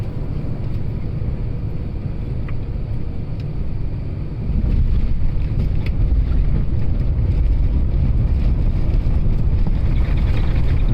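Cabin noise of an Air India plane landing on the runway, with a steady loud roar of engine and wind rumble that grows stronger partway through, no talking.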